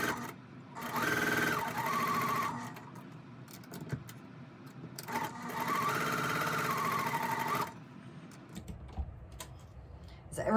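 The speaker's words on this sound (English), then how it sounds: "I'll just go ahead and sew those on" Two long bursts of a sewing machine stitching quilt block pieces for a pressed-flowers hyacinth block, each whirring steadily and separated by a pause of clicks and handling, then quiet rustling.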